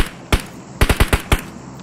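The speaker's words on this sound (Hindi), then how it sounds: "तो उस बंदे के ऊपर भी फायरिंग करते हैं" Gunfire in the mobile battle game PUBG Mobile: a single sharp shot, then after a short gap a rapid burst of about five shots. The reports are loud, punchy and close, with no talk.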